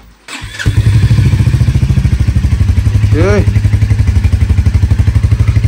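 A motorcycle cold-started before a ride, a quick starter click and catch, then the engine settles into a loud, close, steady idle thump; a voice briefly speaks over it partway through.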